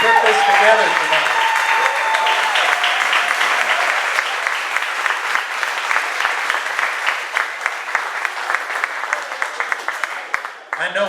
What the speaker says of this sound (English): I want to give a huge round of applause to the band boosters and everybody who put this together tonight